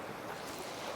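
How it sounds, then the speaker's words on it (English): Sea waves break over a rocky underwater structure on the UK coast, a brief, soft, steady wash of surf mixed with wind noise. "you can just see the waves breaking over structure"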